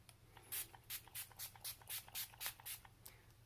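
A setting spray for acne-prone skin is misted onto the face in about nine quick, evenly spaced hissing pumps. It is close and soft, with no talking.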